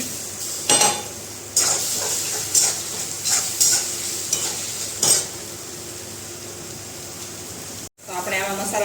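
Tomatoes drop into a sizzling tempering of cumin seeds, ginger-chili paste and asafoetida, giving steady frying hiss with repeated scraping stir strokes and a few metallic clinks, close and moderately loud.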